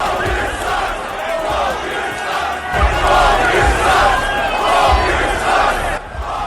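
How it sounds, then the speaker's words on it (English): Toronto basketball crowd booing retired superstar Paul Pierce, a loud sustained roar from a large arena audience swelling in waves throughout. "Toronto fans booed the retired superstar"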